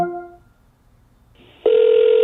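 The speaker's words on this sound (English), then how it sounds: "That's also pretty cool that it can actually make phone calls and stuff as well." An Echo Dot smart speaker places a phone call, with a faint electronic tone fading out, a brief pause, then a loud steady calling tone that holds to the end.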